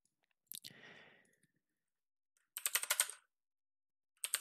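Bursts of typing on a computer keyboard during 3D CAD modelling, a short quick clatter of clicks near the start and a denser, louder run of keystrokes midway, with another brief flurry at the end, close and with no talk.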